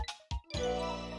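A short chime-like jingle from the Ghost Trick video game, marking a phone book update: two quick bright tinkles, then a sustained shimmering ringing tone that holds to the end, clear and alone with no talk.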